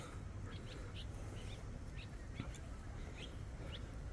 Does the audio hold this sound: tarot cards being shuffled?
no